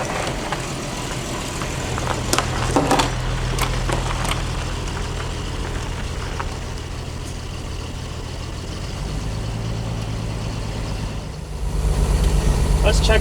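An old V12 car that sat for 20 years rolls out under its own power, a low steady engine rumble throughout that swells louder near the end, with people talking over it.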